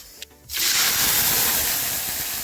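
Sugar water is poured into a hot tempering of mustard seeds and curry leaves for khandvi, setting off a sudden loud hiss of steam that holds strongly and slowly eases, close up, after a brief quieter moment.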